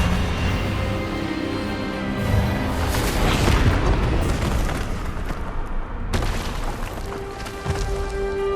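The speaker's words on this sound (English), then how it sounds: "Expelliarmus!" Expelliarmus spell effect from the Hogwarts Legacy video game, a loud sustained magical blast with booming, explosive surges and a crackling burst midway, continuous over the whole clip with no speech.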